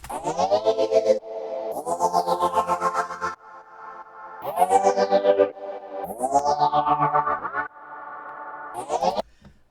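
Future bass synth chords programmed in FL Studio 12 pulsing with a rapid wobble, played in several sustained chord stabs with sweeping noise risers leading into each, loud and alone with no talking.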